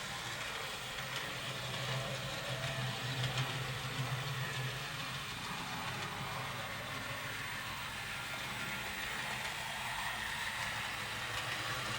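An N gauge model locomotive running on its track, producing a faint, steady mechanical whir and hum that continues without pause under low background noise.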